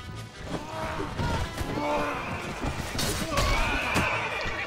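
Horses whinny and neigh amid the clash of a battle in Mount and Blade: Warband, with hoof clatter and thuds of combat layered throughout, steady and fairly loud.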